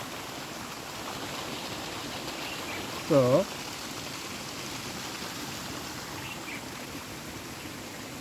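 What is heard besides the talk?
rainwater flowing down a mountain path stream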